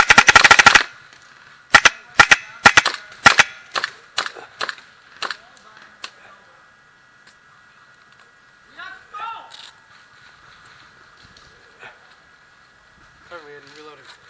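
Airsoft guns firing at an outdoor field: rapid sharp cracks in quick bursts, then scattered single shots, with players talking briefly over quieter stretches.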